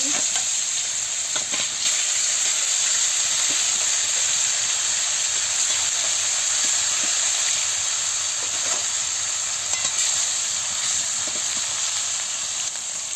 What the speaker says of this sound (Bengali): তেল গরম হয়ে গেছে, আমি এবারে মাছটা দিয়ে দিচ্ছি